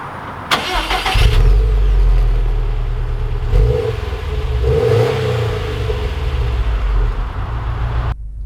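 A 2020 Subaru WRX STI Limited engine cranks and catches with a sharp start, then idles roughly and revs up several times, loud and close.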